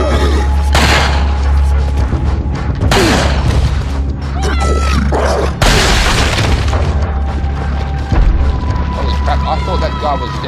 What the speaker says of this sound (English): I'm going to go ahead and waste a grenade.